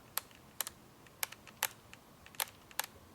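Set button and dial on a film camera's date-imprint back being clicked: six or so sharp, light clicks spaced irregularly over a few seconds, close and fairly quiet, with no talking.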